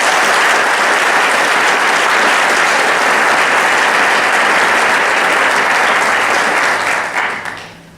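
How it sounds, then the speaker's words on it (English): A large audience at a university honor society induction ceremony gives a loud, sustained round of applause that fades away at the very end. "let's give her one more big round of applause"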